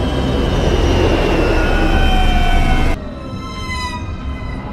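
Loud, steady jet engine roar from an airliner touching down on a runway, broad and continuous with a whining tone, dropping abruptly in level partway through, then continuing at a lower roar.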